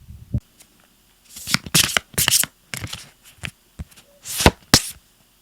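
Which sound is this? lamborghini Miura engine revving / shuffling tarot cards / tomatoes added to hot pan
shuffling tarot cards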